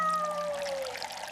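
Running water pours steadily over a fish being rinsed clean at a table, a continuous splashing stream heard close and alone, with a faint tonal whine fading early on.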